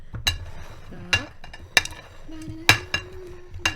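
Sweets are mixed on a plate, giving a handful of sharp clinks and scrapes at uneven intervals, close by, with faint rustling and a low hum underneath.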